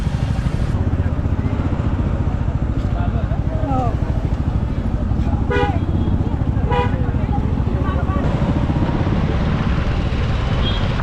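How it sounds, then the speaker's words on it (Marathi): Dense road traffic from Pune toward Saswad during a palkhi pilgrimage drones continuously with engines, as car and motorcycle horns toot repeatedly; people talk over the noise. "आता पुढं बघा फक्त ट्रॅफिक"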